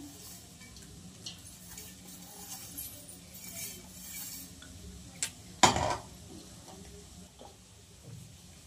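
Khichdi being mixed by hand in a pot for a Shravani Somvar special: soft, steady stirring and scraping with faint utensil clinks, one sharper metallic clank partway through, against quiet room background.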